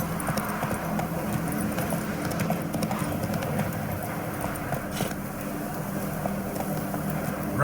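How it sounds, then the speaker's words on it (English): Hooves of a horse galloping in The Witcher 3, a steady rapid clip-clop rhythm running throughout over a dense bed of game ambience, close and loud. "Run, Roach."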